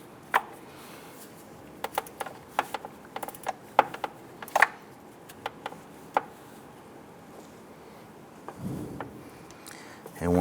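A tool tightens the bolts on the AC control valve of a 2005-2007 Ford Five Hundred. It makes a series of sharp, irregular ratcheting clicks up close over a quiet background, ending in a short rustling scrape.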